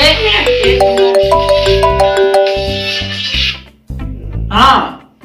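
A melodic phone ringtone plays a rising and falling tune of bright tones, then cuts off before a brief burst of voice.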